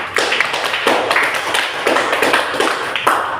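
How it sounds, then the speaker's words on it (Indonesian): A group claps together in a classroom during a chemistry lesson, broadband clatter rising in a few repeated bursts, fairly loud and close throughout. "Tepuk tangan untuk kita semua"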